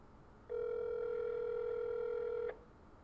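A telephone call to a Popeyes restaurant rings out on the line: a single steady electronic ring tone holds for about two seconds, then cuts off, faint and alone.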